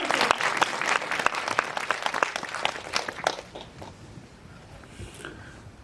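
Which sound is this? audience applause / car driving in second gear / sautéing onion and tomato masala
audience applause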